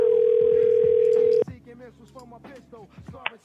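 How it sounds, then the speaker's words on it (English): Steady telephone dial tone after a disconnected prank call, loud and continuous for about a second and a half, then cut off abruptly and followed by faint line noise and brief soft sounds. "All right, Kathy, you just say the line got disconnected by accident."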